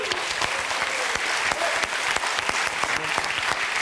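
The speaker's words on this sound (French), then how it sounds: "L'honneur est sauf, Julien, on vous applaudit en tout cas" Studio audience on a French TV game show breaks into steady, dense applause, many hands clapping together at an even level throughout with no one speaking.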